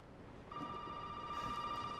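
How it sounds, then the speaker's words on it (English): In Resident Evil 7, a telephone rings with a steady electronic tone that starts suddenly after a moment of quiet, faint and continuous. "Oh, the phone's ringing."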